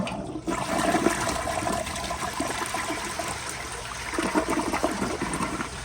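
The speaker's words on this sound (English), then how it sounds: "But here is another flush" A 1997 TOTO Carusoe toilet, with a rim jet that is defective or clogged, flushes loudly and steadily, water rushing for several seconds with a brief surge of splashing near the end.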